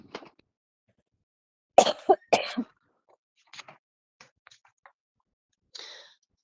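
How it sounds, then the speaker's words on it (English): Several sharp, close coughs in quick bursts, separated by pauses and softer throat sounds, with near silence in between. "I have to go cough"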